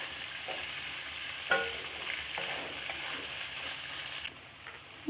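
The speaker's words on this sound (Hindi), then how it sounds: "कनी देर लाल हो तक भूज लेबै आलू के मटर के।" Potatoes and green peas frying together in a pan, a continuous low sizzle with occasional spoon scrapes and knocks, fairly quiet and close, no voices.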